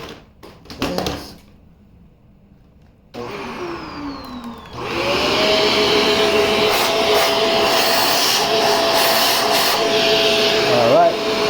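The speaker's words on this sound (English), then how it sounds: "We will begin our troubleshooting by first checking if the vacuum has any suction." A Shark Duo Clean vacuum cleaner during a suction test. A few clicks and handling knocks come first, then the motor starts with a rising whine and settles into a loud, steady roar.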